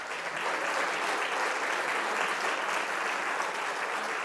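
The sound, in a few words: audience applause at a lecture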